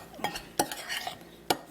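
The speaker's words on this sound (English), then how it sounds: "you want to go ahead and mix that up" Flour and seasoning, including a dash of Lawry's, mixed by hand for a chicken wing coating, giving soft scraping stirs with a few sharper taps against the bowl, close and fairly quiet.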